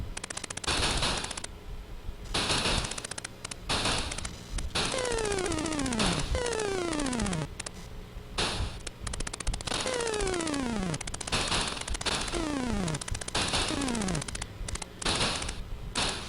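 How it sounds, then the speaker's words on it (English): Jumpman, a Commodore 64 game, fires white pellets at spacecraft: a harsh, loud run of rapid electronic gunfire bursts with repeated descending laser-like swoops. No one speaks. "You are instead firing off your own white pellets of doom."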